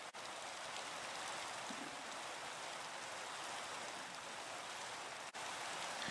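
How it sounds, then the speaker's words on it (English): Steady rain in the video game Minecraft, a continuous soft hiss of falling drops at an even, moderate level with no talking. "And it's raining again."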